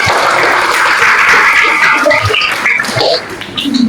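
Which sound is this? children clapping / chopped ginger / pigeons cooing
children clapping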